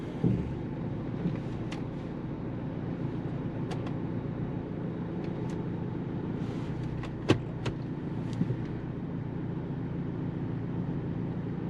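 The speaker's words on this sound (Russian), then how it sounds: "Так, да, автомобиль трогается на электротяге." A Peugeot 508 RXH Hybrid estate pulling away on electric drive, a low steady hum with a faint whine and no engine firing, broken by a few soft clicks and knocks later on.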